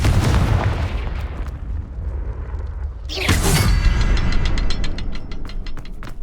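A Confringo fire spell explodes in Hogwarts Legacy: a loud booming blast erupts over a low rumbling backdrop, followed by crackling debris and scattered pops fading out.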